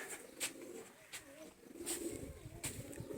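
Pigeons, including a female sitting near chicks, coo at a rooftop loft. Soft, low warbling coos ripple through a quiet outdoor setting with a few faint chirps mixed in.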